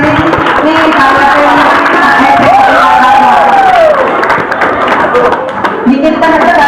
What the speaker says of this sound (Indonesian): Tepuk tangan dong buat diri kita sendiri.